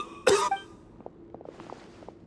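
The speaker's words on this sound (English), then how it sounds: "is he coughing so much?" A single sharp cough from a character in Genshin Impact, fairly close, followed by faint shuffling and light clicking sounds in a quiet room.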